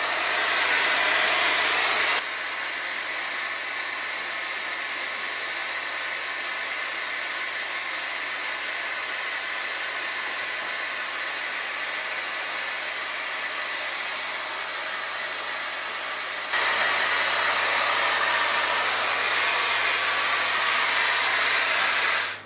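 A hair dryer blows steadily at close range while drying hair, its broadband whoosh running unbroken, slightly louder at the start and end where the setting changes.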